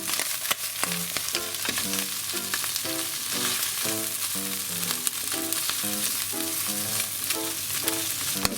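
Garlic sizzles and fries steadily in rendered bacon fat from crisped bacon for carbonara over lowered heat, a dense continuous crackle heard close and alone with no talk.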